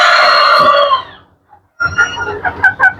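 A close, loud Black Tail Japanese rooster crow trails off, followed after a short pause by a run of busy clucking from several Black Tail Japanese chickens.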